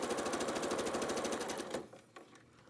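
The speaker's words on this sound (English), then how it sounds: "I'm going to sew these units together." A sewing machine joins quilt block units for a Prairie Flower variation, its rapid rhythmic stitching chatter running close and steady before stopping, followed by faint handling clicks.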